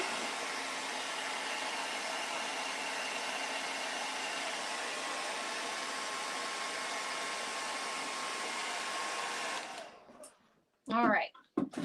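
A hair dryer blows steadily and loudly for about ten seconds, drying paint on a hand-painted Christmas camper, then cuts off, leaving brief clicks and handling noises.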